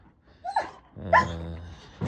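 A Doberman barks close and loud, giving a couple of separate sharp barks and a longer drawn-out one.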